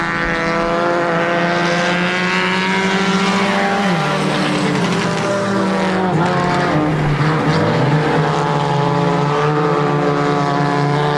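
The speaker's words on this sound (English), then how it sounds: "The Roland Gay in the 5 car, and Sean Walker in the 77 running 1-2." Dirt track race cars roar around Airborne Speedway in Plattsburgh, New York, with cars 5 and 77 running at the front. The loud, continuous engine drone rises and falls in pitch as the cars pass, and no one speaks over it.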